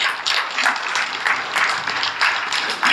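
An audience on its feet applauds loudly for Manda Krishna at a gathering, producing a dense, continuous roar of clapping with slight swells that fills the whole stretch.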